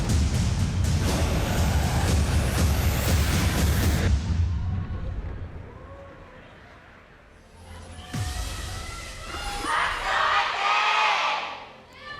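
A large esports arena crowd at a League of Legends KeSPA Cup match roars and cheers loudly, fades briefly to a murmur, then surges back into a big, sustained cheer with whoops.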